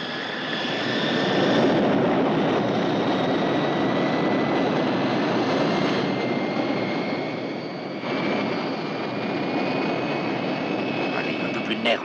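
A propeller airplane engine roars steadily and loudly during takeoff, with a constant droning hum and a faint whine riding on top.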